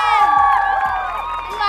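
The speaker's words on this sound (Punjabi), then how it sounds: "ਸੋ ਆਪਣੇ ਫੈਮਿਲੀ ਲਈ ਜ਼ੋਰਦਾਰ ਤਾੜੀਆਂ" A loud crowd at a girls' polytechnic college event cheers and applauds for the families, with high, bright shouting voices layered over clapping in a short, dense burst.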